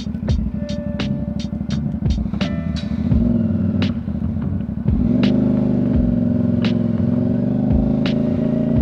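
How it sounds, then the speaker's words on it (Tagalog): A CF Moto 450 SR-S motorcycle idles with a deep throbbing exhaust note, then revs in a series of sharp blips before settling into a fuller, louder rumble, close and alone without talk. "Na-try natin i-record yung sound ng exhaust."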